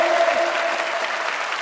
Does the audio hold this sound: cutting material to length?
no